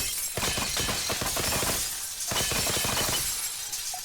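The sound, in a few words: glass shattering in video game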